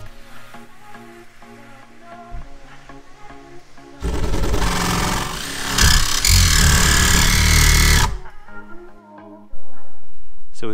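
A jigsaw cuts a hole through the painted metal roof of a van, fitting a roof fan, its loud harsh rasp starting after a few seconds of quieter noise, running about four seconds, then stopping and briefly returning near the end.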